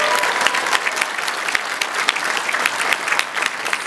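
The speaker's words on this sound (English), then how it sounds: "Everybody give it up for Rachel." Audience applause at an Eliza Dushku Q&A panel at the Dallas Sci-Fi Expo, a steady burst of clapping from a large crowd filling the room, loud and dense throughout with no talk over it.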